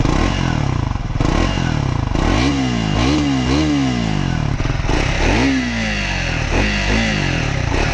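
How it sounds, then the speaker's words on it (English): Triumph Scrambler 400X motorcycle with dual exhaust, revved several times at close range, each throttle blip rising and falling over a clattering idle. "That's the engine note."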